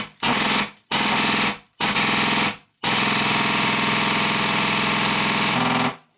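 An XM177 Wolverine MTW airsoft rifle fires on full auto close up: three short rattling bursts, then one long burst of about three seconds.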